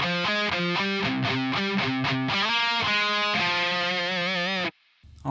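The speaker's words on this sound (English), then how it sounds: "that really cool, heavily palm-muted section played in single notes." A heavily palm-muted, distorted electric guitar plays single notes of a verse riff, slowed down, in a chugging rhythm that then sustains before cutting to silence.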